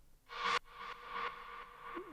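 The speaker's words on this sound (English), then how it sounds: "this is just a sample, percussive sample that I reversed and delay reverb" A reversed percussive sample swells up into a sharp cutoff, followed by a train of fading delay repeats bathed in reverb, quiet and spacious in a deep hypnotic techno production.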